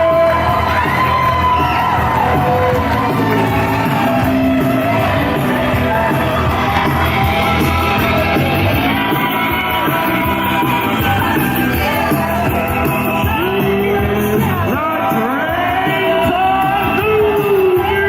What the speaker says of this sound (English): What a response from this crowd